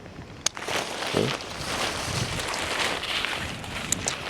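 Wind gusts across a microphone outdoors as a broad, continuous rumbling roar, with a couple of sharp clicks and faint rustling.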